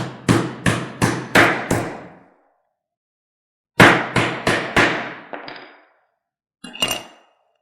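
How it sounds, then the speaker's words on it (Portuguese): Hammer blows on a cleaver chopping through a fish head, two bursts of five sharp, loud metallic-wooden strikes in steady rhythm, then a brief final knock; no talking. "Vou posicionar o cutelo e vou bater com o martelo."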